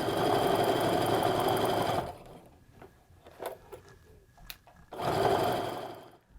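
A sewing machine stitches quilt seams in two fast, loud bursts of rapid mechanical whirring, separated by a few seconds of quieter handling noises and small clicks.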